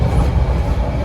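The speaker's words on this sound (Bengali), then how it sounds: "মোটামুটি একটা জয়েন্ট আছে ট্রেনের, দেখুন টক টক টক টক" Loud, close rumble and clatter of a passenger train's wheels rolling over a rail joint, heard from inside the carriage near the washroom, continuous and heavy.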